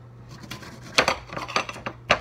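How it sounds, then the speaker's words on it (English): A metal utensil stirs shrimp in a cooking pot, giving a handful of close, sharp clinks and scrapes against the metal in an irregular rhythm, with no voices. "Then you have to keep stirring it."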